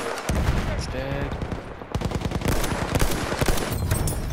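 Rapid bursts of Mondragon rifle fire crack out in a video game firefight on the Sinai desert map, repeated sharp shots in quick clusters with a short lull partway through.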